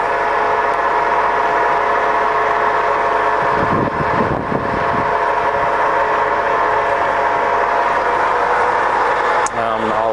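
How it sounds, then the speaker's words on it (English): A Scott 6250 centre lathe runs its lead screw feed with a loud, steady mechanical hum and whine throughout, and a brief knock partway through; someone speaks over it near the end. "So that's that lead screw going and coming towards me."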